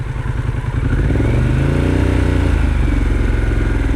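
A motorcycle engine runs steadily during a riding lesson, a loud, close, even mid-pitched drone that rises slightly after the first second, with no talking.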